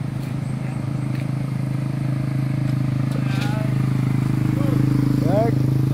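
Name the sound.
motorcycles passing on a road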